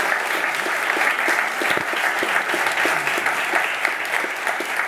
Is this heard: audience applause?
yes